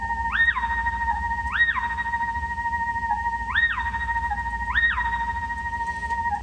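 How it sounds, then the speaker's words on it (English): High synth lead from a basic sine-wave Massive patch doubled an octave, low-pass filtered with slight reverb and glide, short gliding phrases that rise and fall in repeated pairs over a faint low backdrop. "this high lead thing happening, which is just a super basic like sine wave massive patch doubled an octave with a low pass filter"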